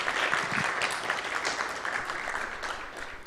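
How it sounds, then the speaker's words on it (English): Audience applauding at a launch event for an innovators start-up and digital skills training programme, a dense, steady wash of clapping that holds strong throughout with a few louder bursts early on. "let's give him a big round of applause"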